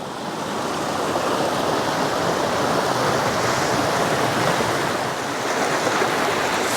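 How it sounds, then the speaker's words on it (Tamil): Roaring stream of water rushing over rocks beside a waterfall, a loud, steady broadband rush that stays constant and close throughout with no voices. "தண்ணி ஆரவாரிக்கிறது வந்து பயங்கரமாக இருக்குது"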